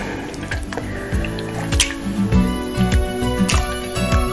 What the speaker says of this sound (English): Enjoy the ploppy noises.